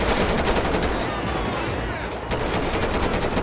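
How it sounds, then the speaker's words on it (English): Rapid, continuous gunshots in GTA 5 during a SWAT shootout, loud automatic bursts firing almost without pause. "Grandma took a couple shots at me, too."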